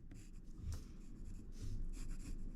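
Pencil or pen scratching steadily across paper while a pumpkin outline and its cut-off stem are drawn, close and fairly quiet, in short strokes with no talking.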